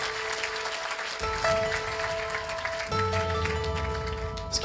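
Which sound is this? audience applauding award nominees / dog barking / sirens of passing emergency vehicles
audience applauding award nominees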